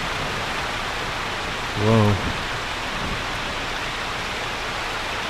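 Steady broadband rain hiss on a truck in Euro Truck Simulator 2, continuous and even throughout, with a brief exclaimed voice partway through.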